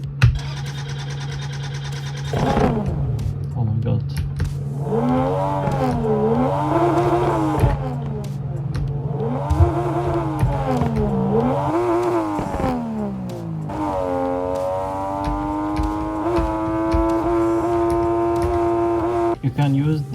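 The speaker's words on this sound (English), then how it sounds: "So let's start the engine." Car engine in the Drive Beyond Horizons video game starting up and revving in repeated rising and falling surges over a steady idle hum, with a voice exclaiming briefly over it.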